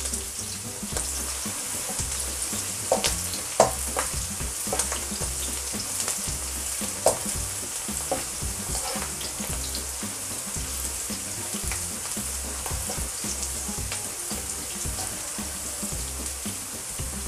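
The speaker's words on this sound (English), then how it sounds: "Just fry it for a few minutes until it gets brown." Vegetables frying in hot oil in a pan for fried rice, a steady close crackling sizzle with faint spits and pops, running continuously without talk.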